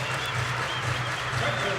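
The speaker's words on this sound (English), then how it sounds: "Everybody clap your hands." A basketball arena crowd at a Western Kentucky vs. UTEP game claps in a steady, dense wash that stays at an even level, with crowd noise and voices mixed in.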